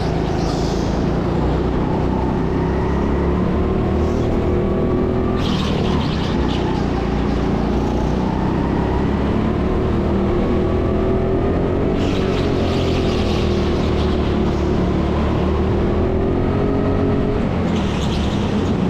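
Go-kart engines at an indoor TeamSport Karting track in Sheffield accelerate off the start line in a sprint race, a loud, continuous droning whine whose pitch climbs and shifts as the karts pull away, steady for the whole stretch.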